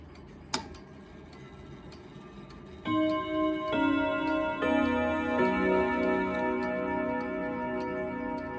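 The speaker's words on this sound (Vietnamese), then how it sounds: "Bây giờ xin phép được test cái tiếng chuông để các bác được thẩm âm và đánh giá." ODO clock, a 36/8 tall-cabinet model, begins chiming the Westminster melody after a single tick-like click, its resonant rod tones ringing out one after another and layering into a sustained, reverberant chime.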